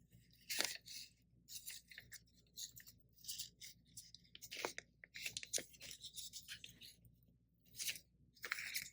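Paper is torn away from quilting stitches in short, crisp ripping bursts separated by pauses, close and fairly quiet, with no speech over it.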